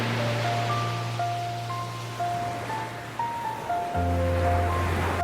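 Pacific Ocean surf rolls in as a broad, steady wash of waves, loud and continuous with gentle surges, under soft sustained music and no voices.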